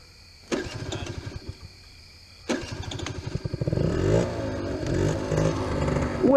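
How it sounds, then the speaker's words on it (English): A 2004 Derby 50cc dirt motorbike cranks twice with sputtering starter bursts, then catches and its small engine revs up into a buzzing, rising idle, close and loud. "It is a 50cc 2004 Derby."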